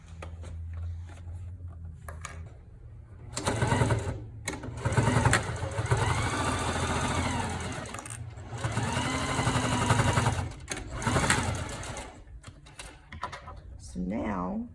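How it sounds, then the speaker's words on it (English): Sewing machine stitching a fabric face mask, its rapid mechanical whirring running in bursts of several seconds with short pauses, close and loud, while a person talks over parts of it. "back to the sewing machine."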